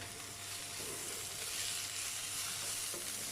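Cauliflower chilli fry being stirred in a pan with added pepper and coriander leaves, a steady broadband sizzle with soft scraping strokes running throughout, moderately quiet and without speech.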